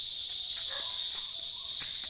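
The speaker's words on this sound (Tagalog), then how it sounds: "Kuliglig na ang naririnig." Crickets chirping at dusk outdoors: a dense, steady, high-pitched trill runs continuously throughout, with faint scattered background sounds beneath.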